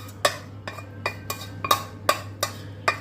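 Glutinous rice being mixed with coconut milk and brown sugar in a cooking pot for biko: a steady series of about eight sharp utensil clinks and scrapes against the pot, close and fairly quiet, with no talking.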